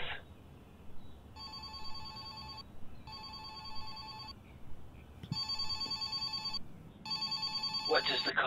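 A telephone rings for an incoming call in a tense home hostage scene, sounding in four evenly spaced electronic ring bursts that are fairly close and clear over a low room hum, with a voice briefly at the end.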